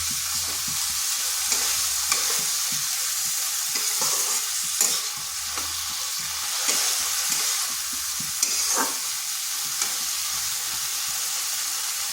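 Washed red lentils frying with spices in a pan, a continuous soft sizzle broken by frequent scraping strokes of a spatula stirring.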